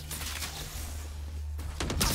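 Gunfire from a Valorant match, heard as rapid, fairly faint shots and clatter over a steady low hum, with a sharper burst near the end.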